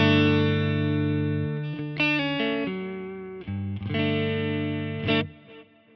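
A Stratocaster-style electric guitar plays through a MESA Lone Star amp preset with light delay and reverb. Sustained, warm, clean-to-crunchy chords and single notes ring out and change every second or so, their tails echoing into the gaps.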